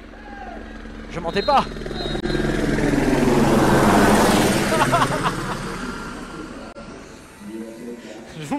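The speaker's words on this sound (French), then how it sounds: "C'est un drone." A drone flies overhead, its buzzing rotor whine swelling to a loud peak and then fading away, while a person speaks over it in French.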